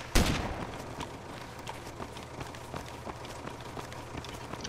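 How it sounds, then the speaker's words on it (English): Gunfire in the military video game Arma II: one loud close shot at the start, then faint scattered distant shots and low rumble continuing in the background. "Someone is shooting."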